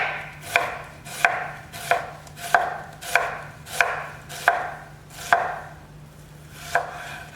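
A knife slices onions thinly on a board, nine crisp evenly spaced chops at a slow steady rhythm with a short pause near the end, close and clear with no talking.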